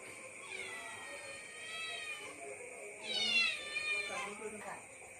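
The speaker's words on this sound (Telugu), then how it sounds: "చిన్నారి పిల్లి," A cat meows repeatedly in drawn-out, wavering cries, fairly close and clear, with a louder, more insistent call near the middle and quiet room noise around it.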